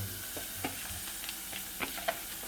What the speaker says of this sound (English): Let me get a spoon that I can stir.